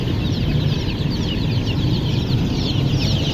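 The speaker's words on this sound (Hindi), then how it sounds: "ये देखें जी, चूजे आ गए।" Chicks for sale at a crowded pet market in Multan, dense overlapping high cheeping that carries on continuously over a constant low hubbub of market noise.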